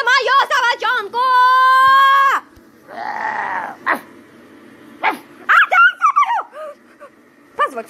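A small dog barks and yips in quick bursts, with whiny, high-pitched cries between them, close and loud, with pauses of near silence.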